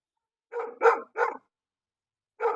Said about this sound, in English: you can see that's Poppy that's barking, but you can see her tail wagging